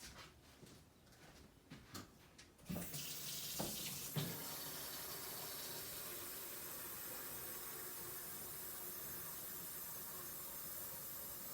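Water running from a kitchen tap to water canna lily bulbs, starting after a few quiet clicks and handling noises, then a steady continuous hissing stream that stays even until the end.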